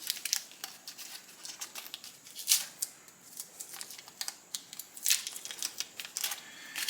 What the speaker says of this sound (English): right now I'm going to take the tape off of this